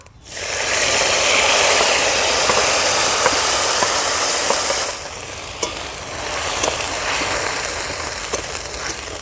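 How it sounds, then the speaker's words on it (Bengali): Spice paste hits hot oil with whole cumin seeds in a village-style kitchen, bursting into a loud, dense sizzle that eases after a few seconds into steadier frying with occasional scraping stirs. "ফোড়নে দিয়ে দেবো গোটা জিরে এবার পেস্ট করে রাখা মশলাটা দিয়ে দেবো"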